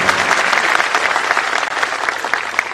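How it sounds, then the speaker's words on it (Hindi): Loud, dense applause from an audience for the chairman at a university orientation ceremony in Bhopal, continuous and steady for the whole stretch with no voices over it. "एक बार फिर से जोरदार तालियां आदरणीय चेयरमैन सर के लिए।"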